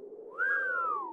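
A character in the horror game Tiny Bunny lets out a single clear whistle that rises, holds a sustained pitch, then slowly glides down, sounding close and alone over a soft background tone.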